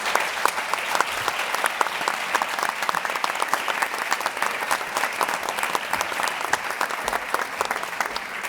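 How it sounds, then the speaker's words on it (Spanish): Audience applause for the speakers at a tourism technology forum, steady dense clapping filling the room for several seconds at an even, sustained level with no talk over it. "por favor, un fuerte aplauso a nuestros ponentes."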